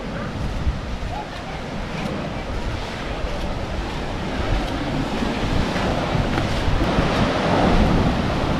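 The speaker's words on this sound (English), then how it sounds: "That's the beach." Ocean surf rolling onto the beach at Uluwatu, Bali, a continuous broad wash of breaking waves with wind buffeting the microphone, steady and fairly loud throughout.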